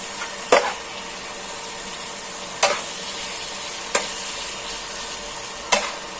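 Pork being stir-fried in a pan with pounded aromatics and shrimp paste, a steady soft sizzle broken by four sharp scrapes or clacks of the spatula spaced a second or two apart.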